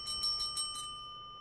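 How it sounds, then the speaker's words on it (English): A small hand bell is rung several times in quick succession near the start, each ring clear and bright, then it fades out into a quiet room with no talking. "You have that bell just for Mark Bell"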